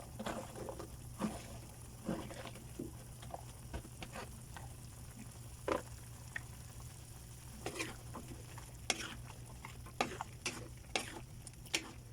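Pork and vegetables sautéing in a pan for pinakbet give off a low, steady sizzle, broken by scattered sharp clicks and scrapes from stirring.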